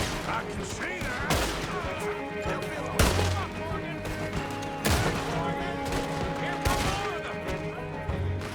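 Repeater rifle shots ring out in Red Dead Redemption 2, sharp loud cracks every second or two amid a game battle with other gunfire and ambient sound, with voices talking over it.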